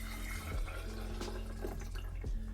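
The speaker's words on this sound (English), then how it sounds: "we can go ahead and add around 200 mils of orange juice" Orange juice poured into a container for a holiday mocktail, a soft, close liquid trickle with faint splashes and drips against a steady low background hum.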